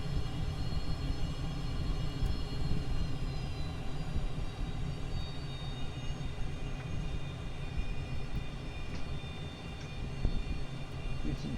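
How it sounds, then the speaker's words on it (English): Airliner jet engines in Microsoft Flight Simulator 2020, a steady loud low roar with a whining high tone that slowly falls, continuous throughout with no talk. "Need some jet engines"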